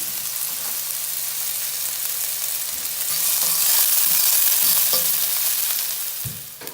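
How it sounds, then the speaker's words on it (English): Chopped onion sizzles steadily in hot oil in a pan as the base of a chickpea and potato curry, with occasional scrapes and taps from stirring, close and continuous with no talking. "We're gonna saute."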